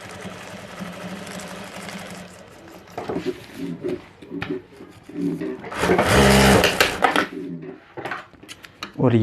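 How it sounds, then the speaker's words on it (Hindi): Sewing machine stitching two pieces of a handbag together: a near, loud mechanical whirring rattle that builds to a dense burst, with someone speaking over parts of it. "ये दोनों पार्ट के ऊपर हमें सिलाई कर देनी है।"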